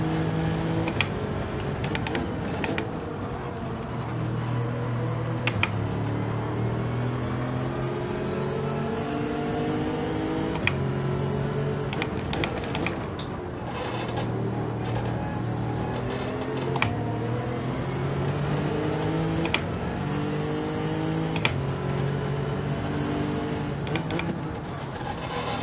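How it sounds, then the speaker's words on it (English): Subaru race cars in Gran Turismo 7, engines droning and revving steadily with rising and falling pitch as gears change, a continuous mid-level roar over several laps' worth of racing. "I love the sound of those Subarus"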